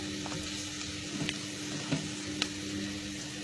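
Ginger and garlic sauté in oil in a pan for chicken kurma, a steady close sizzle broken by a few soft clicks of a spoon stirring.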